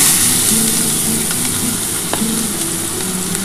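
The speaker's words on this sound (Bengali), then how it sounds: "আমি কিন্তু পেঁয়াজটা কিন্তু একটু হালকা করে ভেজে নিচ্ছি" Onions frying lightly in oil in a pan, the base for an aar or rita fish kalia, give a steady close sizzle with soft crackles throughout, with no talking.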